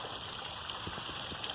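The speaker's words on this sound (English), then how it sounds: "We got a creek running down there," Creek water trickles and gurgles softly into a sinkhole during rain, a faint continuous flow with small splashy bubbles.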